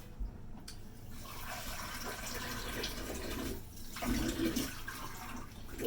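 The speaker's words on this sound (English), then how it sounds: "Let me get this bowl with some water." Water runs from a tap into a kitchen bowl for mixing cupcake batter, a faint, steady splashing stream that swells briefly near the end.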